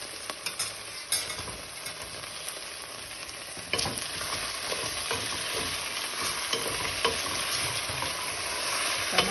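Tomatoes going into a pan of okra curry, a steady sizzle of frying with repeated scraping strokes of a spoon stirring, close and continuous with no talking.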